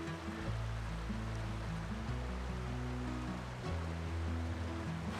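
A massive waterfall beside the Mount Whitney trail, high in the Sierra Nevada, roaring as a steady broadband wash of rushing water, continuous and full throughout with no talk.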